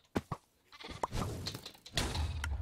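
Bleating sheep from the video game Minecraft, in the Super Smash Mobs mode: short, sharp bleats near the start, then denser overlapping game noise with more bleat-like calls and thuds, all fairly loud and up close.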